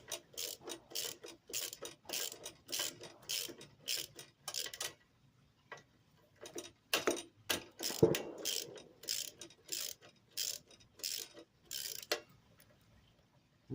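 A ratchet bar loosens bolts on a Craftsman Professional self-propelled mower, giving repeated rapid bursts of loud, close clicking in uneven runs, with a brief thud midway and short pauses between strokes.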